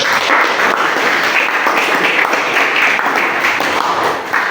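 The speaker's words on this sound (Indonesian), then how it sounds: "tepuk tangan kelompok 4 dulu" Loud, continuous clapping from a room full of participants in a school coaching and academic supervision session, applauding a presenting group with an even dense patter throughout.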